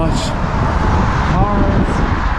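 Cars passing on a road beside an outdoor streetball court, a steady broadband roadway rumble filling the whole stretch, with a voice talking over the traffic.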